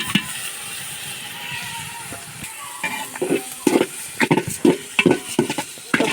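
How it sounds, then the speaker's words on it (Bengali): Polao rice grains being fried in a pan with nuts, a soft sizzle joined by clustered scraping and rattling from stirring that grows busier toward the end. "এই তো পোলাওর চালগুলো এখন এর সাথে ভালোভাবে ভেজে নেব।"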